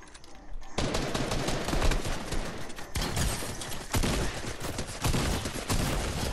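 Rapid SMG fire in Fortnite Battle Royale, loud dense bursts of automatic gunfire in several long strings separated by brief pauses, with no talk over it.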